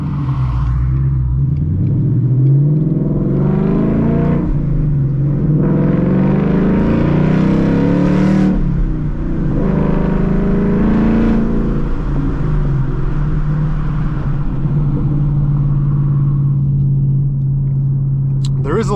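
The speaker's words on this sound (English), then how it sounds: "There is a little bit of drone here on the inside, but it is expected because this is a custom exhaust." A 2022 Ford Mustang GT V8 with a custom exhaust drives along, a loud, steady low drone heard from inside the cabin, rising and falling as it accelerates and shifts, with a voice talking over it.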